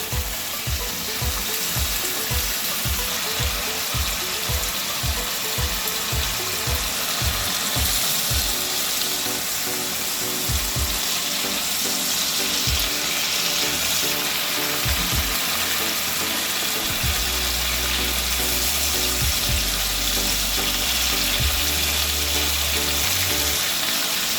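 Prawns coated in salt and turmeric frying in hot oil, a loud continuous sizzle and crackle up close, with rhythmic clicking stirs early on and a low hum joining later, no talking.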